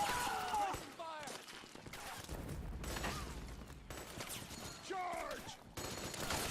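Combat gunfire exchange in a game battle, with a fairly quiet, continuous din of bursts and shots mixed with shouted voices and whistling, swooping sounds.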